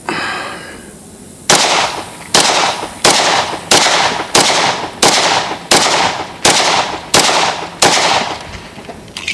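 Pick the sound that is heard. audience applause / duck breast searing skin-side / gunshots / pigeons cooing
gunshots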